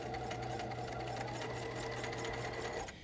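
A sewing machine stitching an apron pocket seam runs in one steady, continuous whirring hum close by for about three seconds, then eases off at the end; no voices.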